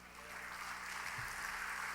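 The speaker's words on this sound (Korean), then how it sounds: "여러분들이 박수를 뜨겁게 해주시기를 바랍니다" A church congregation at a Sunday evening service claps warmly in a faint, even, continuous patter that sounds distant and fills the whole moment.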